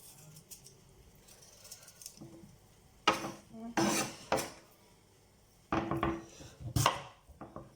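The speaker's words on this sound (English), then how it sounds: "I will just hold my yam and just be peeling this way" A knife peels the skin off a yam with close, dry scraping strokes. They come in short bursts with quiet pauses between, and no one talks.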